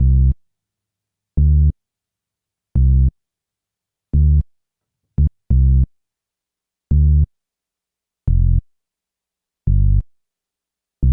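Deep bass line added to an old school sample flip, eight short, loud, punchy low notes spaced about a second or more apart, alone with silence between them.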